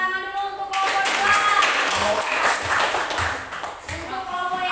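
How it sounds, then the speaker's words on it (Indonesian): A ninth-grade mathematics class claps for a student group, with a few seconds of dense, fairly loud applause from many hands and some voices mixed in, tapering off near the end. "kasih tepuk tangan dulu untuk kelompok dua"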